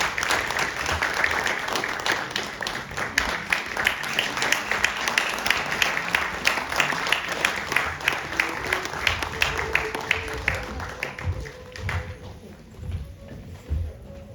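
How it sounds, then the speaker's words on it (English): Audience at a cultural performance evening hosted by an embassy in Tokyo applauds performers, sustained crowd clapping for about twelve seconds that thins out toward the end as a faint voice begins. "A big round of applause, ladies and gentlemen."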